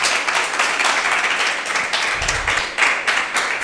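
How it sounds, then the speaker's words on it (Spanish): Church congregation applauding together in a dense, steady wash of clapping that fills the space, loud and continuous for the whole stretch without speech over it. "Dale un aplauso a Jesús si tú lo crees."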